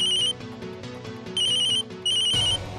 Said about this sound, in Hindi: फोन उठाओ, अवंतिका का फोन है भाई